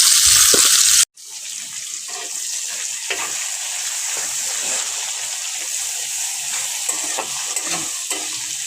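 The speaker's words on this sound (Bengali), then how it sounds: "ভালো করে লাল করে ভেজে নেব।" Chopped onions frying in oil with whole cloves, cardamom and cinnamon for a chicken kasha, a steady close sizzle after a brief loud burst, with occasional stirring scrapes and clinks.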